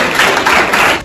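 A short burst of dense audience clapping, loud and close, with no voices over it.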